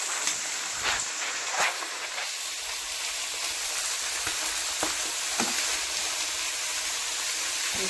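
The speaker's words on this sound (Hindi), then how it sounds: "तो चलिए अब चिकन को डाल देते हैं।" Chicken fries in a pan with browned onions in a rustic village-style kitchen, making a loud, continuous close sizzle and hiss with occasional stirring scrapes and spatters.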